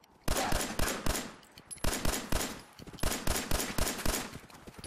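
Rapid bursts of automatic gunfire from the video game Fallout 4 crackle in several sharp volleys separated by brief pauses, fairly close and loud, with no talking.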